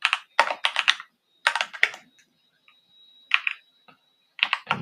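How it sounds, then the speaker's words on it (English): Typing on a computer keyboard in quick bursts of close, crisp key clicks, separated by short pauses, with a faint steady whine in the background. "So we're going to type in locksmith"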